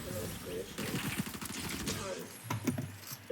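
Rapid automatic gunfire in Fortnite, dense bursts of rattling shots that come and go, mixed with a few louder single cracks and some faint voices underneath.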